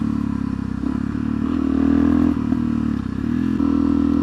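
A Suzuki DRZ440SM supermoto engine hums steadily while riding, its pitch stepping up and down through gear changes at moderate revs, loud and close with no talking.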